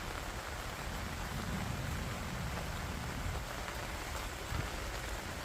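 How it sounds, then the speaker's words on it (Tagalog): Steady rain falls on surfaces outdoors near a summer vegetable garden, a dense, constant hiss of drops with a few heavier patters, fairly faint and without voices. "Lalong lumalakas ang ulan."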